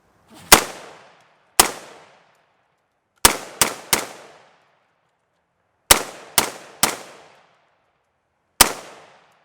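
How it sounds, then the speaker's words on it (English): A CAV15 rifle fires nine sharp, loud, close shots at irregular intervals, some in quick pairs and triples, each with a short echoing decay into silence. "Let's see how it shoots. Ooh, loud."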